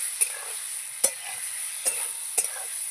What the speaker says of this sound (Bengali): একটু হলুদ দিয়ে দিলাম, এই যে লবণ দিয়ে দিলাম, দিয়ে এবার এটাকে ভালো করে একটুখানি নাড়াচাড়া করব